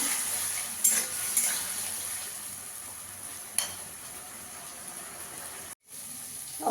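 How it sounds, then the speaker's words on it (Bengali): Ginger and green chili paste sautés in hot oil in a pan, making a steady close hiss with a few light clinks of the spoon against the pan near the start. "এক চামচ আদা আর কাঁচা লঙ্কা বাটা দিয়ে দেবো। ভালো করে একটু কষিয়ে নেব।"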